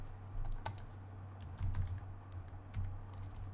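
Several quick bursts of keystrokes on a computer keyboard, close and fairly quiet, with short pauses between the clusters and no voice.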